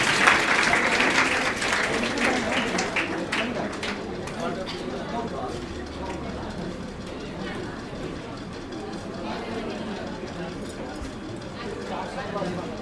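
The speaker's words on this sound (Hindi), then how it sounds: "अजीत के लिए जोरदार ताली हो जाए एक बार" An audience at a student award ceremony claps loudly and steadily, the applause strongest at the start and continuing under an announcer's voice.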